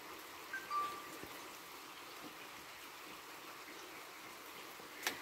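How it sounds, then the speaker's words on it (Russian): Rain patters and trickles gently onto a shelter over an outdoor barbecue of shashlik, a soft continuous wash of drips with a few louder drops, fairly faint and with no talking. "Тут не так сильно капает."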